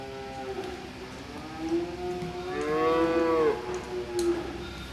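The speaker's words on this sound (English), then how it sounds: "I'm surrounded by cows" Dairy cows mooing on a farm at evening feeding time, long low moos rising and falling, a louder nearby call in the middle over a steady background of other cattle, no speech.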